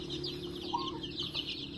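Young native chickens in a group, busy with their feed, making soft clucks mixed with a steady stream of high, thin peeps, close by and continuous.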